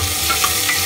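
Onions frying in a pan for chicken masala gravy, stirred as they brown: a short burst of steady close sizzling with a few soft scraping strokes, no talking.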